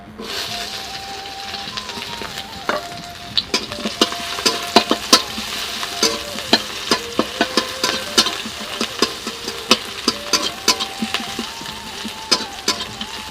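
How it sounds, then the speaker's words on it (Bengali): Bay leaves and chopped onion fry in a kadai, a steady sizzle broken by frequent sharp clinks and scrapes of a spatula against the pan, close and fairly loud, with no talking. "প্রথমে আমি কড়াতে তেজপাতা দিয়ে দিচ্ছি আর তার সাথে পেঁয়াজ কুচানো"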